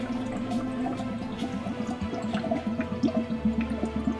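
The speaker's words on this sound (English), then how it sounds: "we'll fill it full of water and see" Water is poured into the cooling system of a Mini Cooper to check for leaks, a steady gurgling pour with bubbling and dripping that swells toward the end, close and moderately loud.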